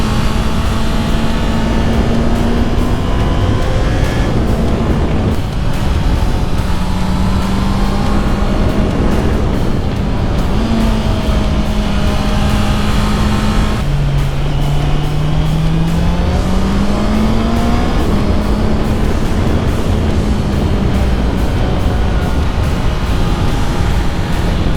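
A loud, close motorcycle engine runs continuously, its pitch rising and falling as it shifts and eases through tight hairpin bends.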